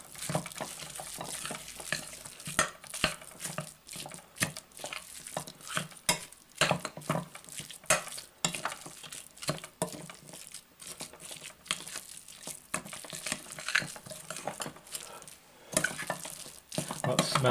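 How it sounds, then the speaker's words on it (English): Burger meat being mixed with pork seasoning, irregular wet squelching and soft clattering in a bowl, continuous and close, with no talk. "Mix it well in"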